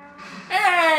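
A Gekko robot in Metal Gear Rising lets out a cow-like moo, a short, close, loud harmonic call that rises sharply halfway through and holds to the end.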